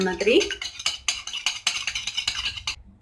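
Rapid clinking of a whisk or fork beating eggs in a bowl, a quick irregular rhythm of close metallic taps.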